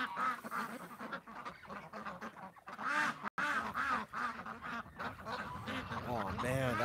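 A duck on a farm quacks repeatedly in loud, raspy bursts close by, with a person talking over and between the calls.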